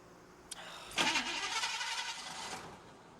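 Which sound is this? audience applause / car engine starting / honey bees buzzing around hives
car engine starting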